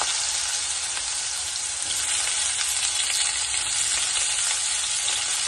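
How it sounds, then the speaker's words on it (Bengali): Cut, washed potatoes fry steadily in hot oil for a winter onion-greens potato dish, giving a loud, continuous close sizzle with crackle throughout and no talking. "প্রথমে আলুটাকে একটু ভাজা করে নেব"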